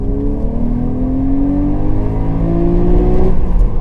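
A Porsche 911 (997.2) Carrera S engine revs steadily higher in second gear, its loud rising howl climbing continuously past 4,000 toward 5,000 RPM with no voices over it.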